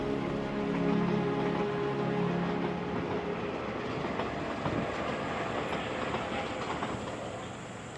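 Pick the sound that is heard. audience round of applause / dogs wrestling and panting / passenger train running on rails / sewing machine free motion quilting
passenger train running on rails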